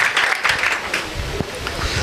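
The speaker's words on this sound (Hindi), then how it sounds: "आए बाइबल के लिए जोरदार तालियां बजा देंगे, जोरदार तालियां बाइबल मुक़द्दस के लिए" Congregation applauding in a church service during a Hindi-language sermon, a short burst of scattered clapping with a voice over it.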